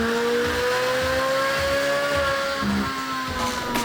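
A naturally aspirated C8 Corvette Stingray with an aftermarket Wilson intake manifold revs hard on a dyno, a loud steady engine wail whose pitch climbs smoothly and then dips, with no talking.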